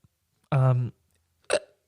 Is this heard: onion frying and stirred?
no